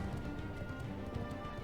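Horse hooves clop at a run in World of Warcraft, a quick, steady patter of hoofbeats under a constant background game hum, moderately faint, with no speech.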